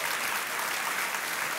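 An audience applauds throughout a sermon, a steady wash of clapping at a moderate, even level with no voices over it.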